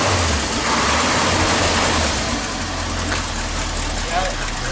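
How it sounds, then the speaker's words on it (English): Idling engine of a 1949 Chevy 5-window pickup with an exhaust leak, a steady low rumble running close and loud throughout, with faint voices in the background. "it's got an exhaust leak too. It'll sound even better."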